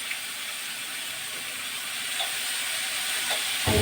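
Ground masala paste hits a hot pan in a home kitchen, giving a steady bright hiss of sizzling. The sizzle holds evenly and swells slightly near the end with a low thump.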